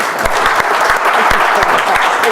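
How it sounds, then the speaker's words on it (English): A round of applause from the audience for the speaker Philippa after a talk on banking ethics in a digital age, a dense, even patter of many hands clapping throughout, with a few sharper claps standing out. "please show you're human by giving Philippa a great round of applause"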